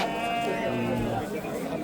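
Sheep bleat at a livestock market, several wavering bleats near and far over a steady crowd murmur and talking.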